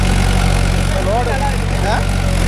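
A Mahindra Yuvo Tech Plus 585 4WD tractor running in low gear at 1500 RPM, its loud steady diesel drone close and constant, with someone talking over it.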